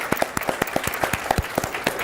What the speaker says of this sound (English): let's give a round of applause for Sharika